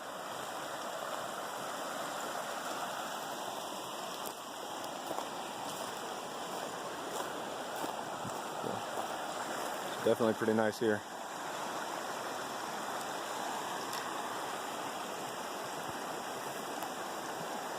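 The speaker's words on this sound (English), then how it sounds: "And then we also have the river." Steady broadband rush of a river flowing in Idaho's backcountry fills the whole stretch, with a person speaking briefly over it.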